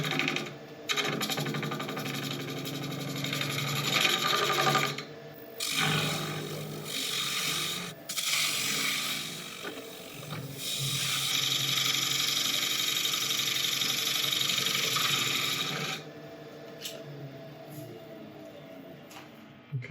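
A resin workpiece spins on a woodturning lathe as a cutting tool makes a few quick cleanup passes before hollowing, producing a continuous scraping, whirring hum broken by short pauses between passes.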